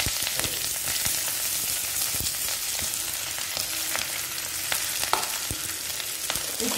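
Drumstick spinach and crushed pepper fry in hot ghee with a dense, steady sizzle, punctuated by stirring scrapes and clicks, close and fairly loud, with no talk.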